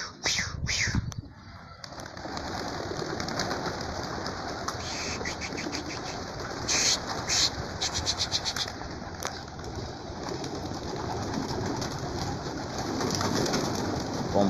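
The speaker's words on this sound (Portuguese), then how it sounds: "Tá liberando os pombos aí pra dar um voo." Racing pigeons released outdoors for a flight, with steady cooing from the flock, bursts of wing flapping and a continuous soft background hiss, loud and close throughout.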